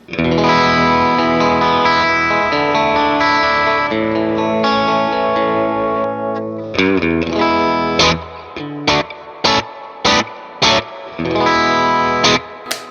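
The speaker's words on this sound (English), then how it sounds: "This would be my clean sound." An electric guitar with a clean, ringing tone lets chords sustain, then plays short strummed stabs separated by brief silences, up close and fairly loud.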